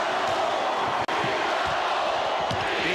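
A crowd of about 19,000 in a basketball arena chants "Beat the Bulls" during a 1993 playoff game between the Suns and Sonics. The rhythmic roar rises and falls steadily and fills the hall.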